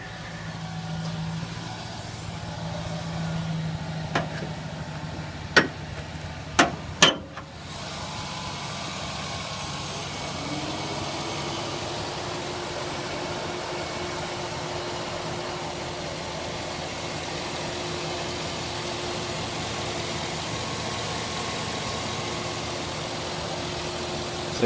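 A 2007-08 Chevy Silverado 4.8 pickup engine with a cold air intake idles steadily at close range, a low continuous rumble after a few sharp clicks early on, with no voices.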